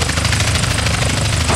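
A helicopter in the video game GTA Underground, Liberty City, thumps its rotor in a steady, loud rhythm with a constant engine roar, close and unbroken throughout.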